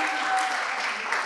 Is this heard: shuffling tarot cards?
no